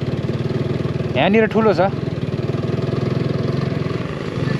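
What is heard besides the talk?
tractor engine running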